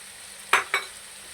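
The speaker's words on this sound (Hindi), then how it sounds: "अब हम इसको अच्छी तरह भूनेंगे।" Fenugreek, red chili powder and salt are roasted in a pan for malai kofta. Two quick, close scraping stirs sound against a soft sizzle.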